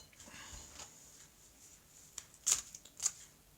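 Tarot cards drawn and handled close up, giving soft rustling and a couple of brief crisp card snaps, faint and quiet.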